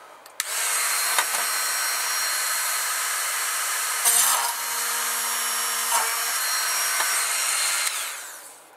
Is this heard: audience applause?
no